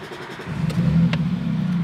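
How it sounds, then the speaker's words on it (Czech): A Škoda Superb engine cranks and catches, then settles into a loud, steady low rumble with a slight rev, close by and with no talking. "Brutálně mě baví, jak to naskočí ten motor."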